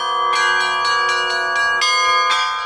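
Church bells ring out at a bell-ringing festival in Belarus, loud and close, with rhythmic strikes layered over a sustained metallic hum.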